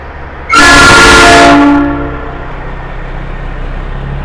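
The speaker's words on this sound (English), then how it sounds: "that truck's horn was so loud I could feel it in my soul" A loud truck horn blasts for about a second and a half in New York City street traffic, a sustained brassy honk that fades into the low rumble of the street.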